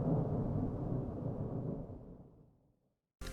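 Thunder rolls over the sea during a thunderstorm, a deep, loud rumble that fades gradually over a few seconds into near silence before another burst of sound cuts in at the very end.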